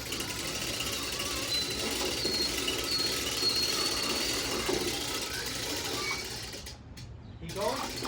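A hand-cranked ratchet lift raising construction beams, giving a steady, busy mechanical clicking and grinding that runs through the whole stretch, with a brief quieter dip near the end.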